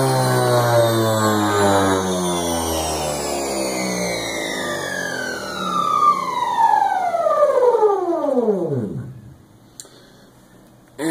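A small brushless DC motor on a development board whines up to 10,000 RPM, its pitch climbing steadily in a loud rising tone, then falling away as it coasts down to a stop, ending in near silence and a faint click.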